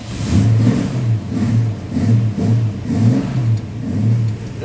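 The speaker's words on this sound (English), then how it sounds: "let's see how she runs with the Holley 1945 on it" A 1976 Dodge D100 fitted with a Holley 1945 carburetor cranks over in a steady, rhythmic churn of repeated pulses, loud and close, without any talking.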